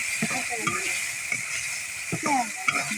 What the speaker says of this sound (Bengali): এটাকে একটু ভুনা করে নিতে হবে।